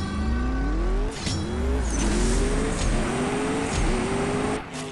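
A Zenvo TSR-S hypercar in CSR Racing 2 screams through rising revs, each gear climbing then dropping at the shift, loud and continuous with tire noise underneath.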